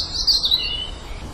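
Small songbirds chirp in a park, a high thin twittering trill that rises and thins out over about a second against a soft outdoor background, with no talking.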